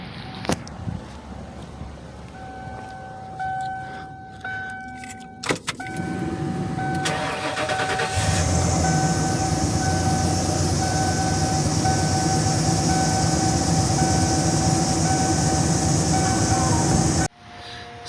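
A 1997 Ford F250 with a 7.5L engine cranks and starts after a belt tensioner, fan clutch and PCV valve job, then settles into a loud, steady idle with a whining belt tone before cutting off.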